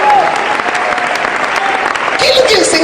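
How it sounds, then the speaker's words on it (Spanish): A church congregation at a Pentecostal service breaks into steady, loud applause that fills the room, with a brief swell of cheering near the end. "Fuerte aplauso, alabanza para eso"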